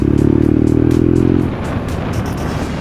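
A motorcycle climbing a gentle mountain grade near Chitkul: a loud, steady engine drone pulls hard under load, then eases off midway into rougher, quieter rumble and wind noise.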